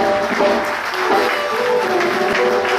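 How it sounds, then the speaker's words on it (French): An audience at a church graduation ceremony clapping for graduates, a dense, steady wash of applause filling the room. "So I want us to give a big hand clap to our current graduates"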